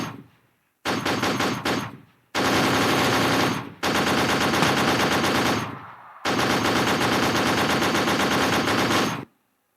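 Heavy automatic gunfire rings out during a CRPF anniversary demonstration of an anti-terror operation: a short burst followed by several long, loud, sustained volleys separated by brief silent gaps.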